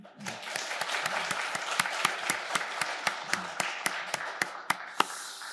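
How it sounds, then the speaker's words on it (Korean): Church congregation at a Wednesday worship service claps to welcome missionaries, a moderate steady round of applause with a few sharp, distinct claps standing out over about five seconds. "환영하면서 박수하겠습니다."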